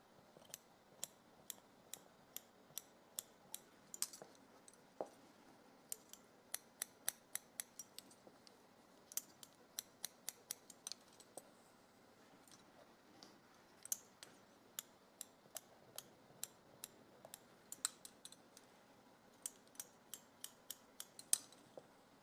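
Scissors snip steadily at the fringe edge of a mannequin head's bangs, point-cutting and slide-cutting, giving many sharp, close metallic clicks in quick irregular runs over a quiet room, with no talking.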